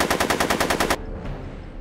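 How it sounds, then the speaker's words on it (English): Gunfire in the Back to the Future video game: a rapid, evenly spaced automatic burst of about ten loud shots in under a second, then abrupt quiet. "I'm afraid I'm finding it difficult to concentrate with all the bullets flying around my head, Mr. Corleone."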